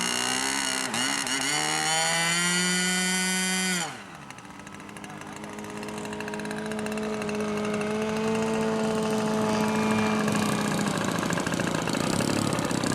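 A radio-controlled model airplane's large glow engine screams at high revs, drops sharply in pitch, then climbs back into a loud, sustained buzzing whine close by.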